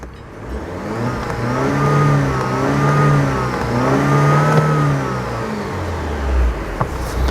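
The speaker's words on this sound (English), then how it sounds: "that gives you a taste and a flavour of what the vehicle sounds like in a stationary position" An Alfa Romeo Stelvio Veloce sits stationary in dynamic mode while its engine is revved repeatedly, rising and falling through several close, loud swells with no soft limiter holding it back, then settling to a low idle rumble.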